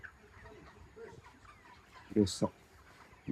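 Chickens on a poultry farm cluck in a few short bursts close by, under and between a man's speech, with faint background farm noise.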